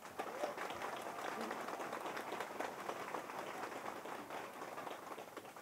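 An audience at a district political meeting in Gangdong applauds, a steady faint wash of many hands clapping from a distance, continuous and without talk.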